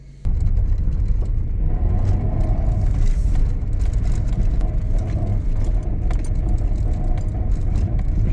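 A small car engine runs rough close by, a loud uneven low rumble with fluctuating chugging that starts abruptly and continues for several seconds, with some metallic jangling over it.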